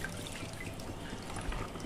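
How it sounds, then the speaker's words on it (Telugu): Toor dal being rinsed with water in a bowl gives a soft, steady wash of trickling and dripping, faint and continuous throughout. "ఇలా నీళ్ళు వేసుకొని బాగా కడిగి తీసుకోవాలి"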